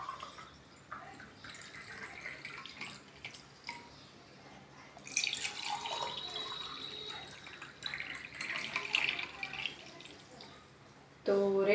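Fennel sharbat, a cold summer drink, is poured into a glass with soft trickling, then a fuller stream of liquid and a few drips, close by and fairly quiet.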